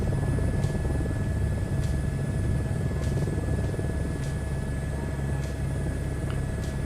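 Aircraft engine droning steadily throughout a takeoff run from runway 05 in Microsoft Flight Simulator 2024, a continuous low rumble with constant loudness and faint ticking clicks, no speech over it.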